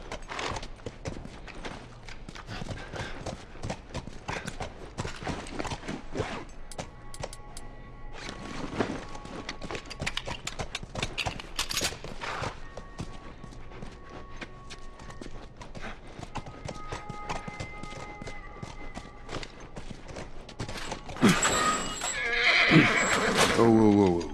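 The Last of Us video game on a PS3 emulator: horse hooves clip-clop steadily over a long stretch, with a horse neighing, some faint talk, and a brighter burst of game-like sound near the end.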